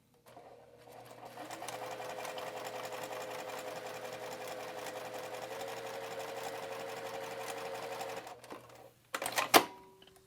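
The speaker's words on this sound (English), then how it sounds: "For this machine, I know, and cotton woven material, typically right around a 2 is what gives me a really nice stitch line." A sewing machine stitches cotton woven fabric in one steady, close mechanical whir that runs for several seconds, then stops, followed by a few sharp clicks and clunks as the machine is handled.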